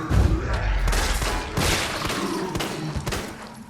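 Samurai Edge handgun shots in Resident Evil 3, a quick volley of sharp, heavy bangs with thuds, loud and close, ending in an explosive hit.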